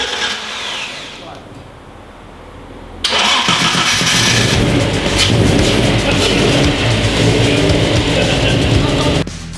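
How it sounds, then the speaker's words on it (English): After a few seconds of quieter mechanical noise, a rally car engine catches and roars into a loud, rough, continuous run that stops abruptly near the end. "Finally, the engine's running."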